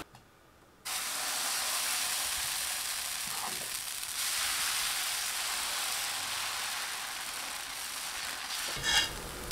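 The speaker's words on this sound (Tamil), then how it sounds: "இப்போ தோசை ஊற்றிக்கலாங்க." Pearl millet dosa batter poured onto a hot pan gives a sudden, steady, loud sizzle that holds for several seconds, then briefly fades and returns with a small flare near the end.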